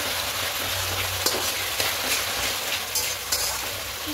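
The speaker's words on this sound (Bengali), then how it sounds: "এবার এখানে গোলমরিচ পাউডার দেবো, আর চিনি দেবো। একটু ভালো করে মিশিয়ে নেব।" Chili soybean being stirred in a hot pan after pepper powder and sugar go in, a constant loud sizzle with a few soft scrapes and knocks of the spoon, no voices.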